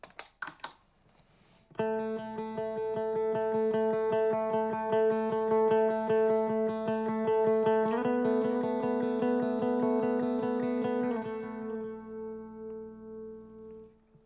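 Electric guitar played through effects for a worship song, sustained chords ringing with rhythmic picking, shifting harmony partway, then fading out, heard alone without talk.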